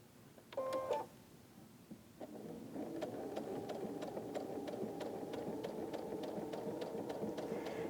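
A sewing machine stitches down the side of a pieced quilt flower block, a steady mechanical whir with a faint rhythmic ticking that runs continuously after a brief thump and pause near the start.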